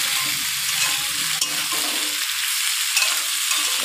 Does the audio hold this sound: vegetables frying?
yes